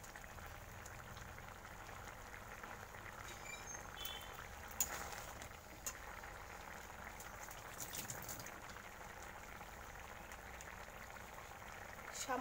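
Okra curry with mustard paste simmers in a pan, a steady low bubbling and sizzle running throughout with a few faint clinks and soft knocks along the way.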